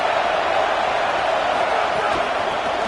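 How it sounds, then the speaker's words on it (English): A dense, steady roar from a packed stadium crowd at an Indiana vs Washington football game, loud and unbroken for the whole stretch, with a commentator's voice faintly under it. "Listen to this crowd just shaking the girders of this place, trying to help their defense."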